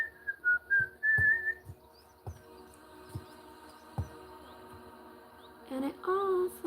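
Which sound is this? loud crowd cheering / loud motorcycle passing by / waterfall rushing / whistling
whistling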